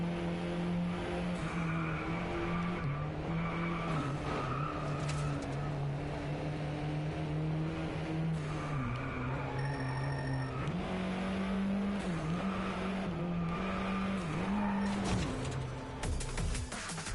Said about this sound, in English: By the way, I totally suck at drifting.